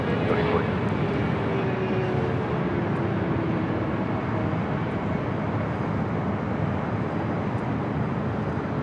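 A jet airliner takes off from runway 24 left at LAX, a steady loud broadband engine roar with a faint falling whine, continuous throughout and heard from a distance across the airfield.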